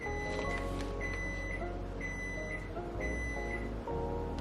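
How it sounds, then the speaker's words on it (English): A kitchen timer beeps in a home kitchen while granola bakes, short bursts repeating about once a second, fairly faint over a steady low appliance hum. "Oop, my timer's going off."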